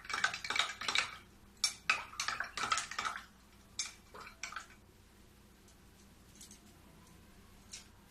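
A spoon stirs powder into half a glass of milk, making a quick run of bright clinking taps against the glass that slow and thin out into a few faint clicks, close and with no talking.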